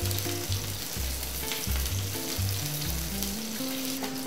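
Fish-stuffed eggplant skewers pan-frying, a steady close sizzle of hot oil running throughout, overlaid with soft background music.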